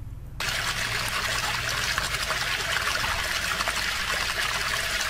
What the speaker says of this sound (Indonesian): Ini adalah sungai-sungai yang mengalir di Tanah Tuboko.